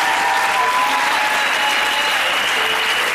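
A congregation at a church ordination in Yopougon claps loudly and continuously, dense applause filling the room without pause.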